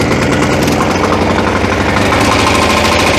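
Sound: walk-behind tractor (motoblock) engine running

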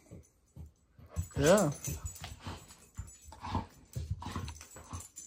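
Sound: dogs whimpering

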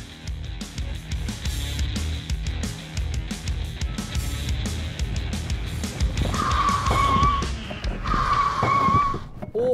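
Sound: Eixam electric mini car braking hard from 45 km/h

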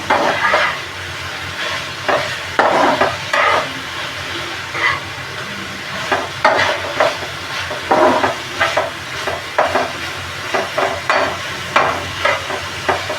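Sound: sautéing marinated chicken for butter chicken in pan

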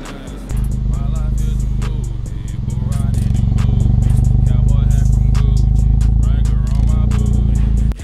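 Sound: car with Borla exhaust idling at about 800 RPM

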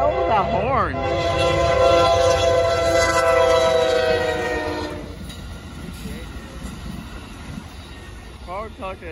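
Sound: Amtrak Texas Eagle passenger train passing

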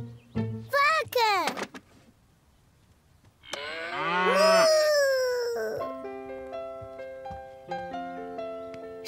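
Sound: cow mooing

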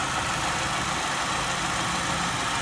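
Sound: 1996 Buick Century four-cylinder engine idling

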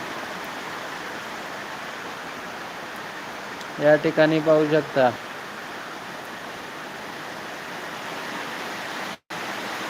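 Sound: heavy rain falling

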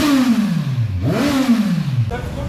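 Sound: Kawasaki Ninja 1000 with Akrapovic exhaust revving

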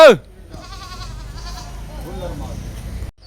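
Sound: goat bleating at a goat market

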